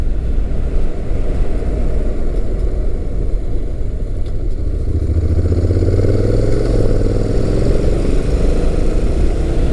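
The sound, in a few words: 2016 Honda NC700X DCT motorcycle riding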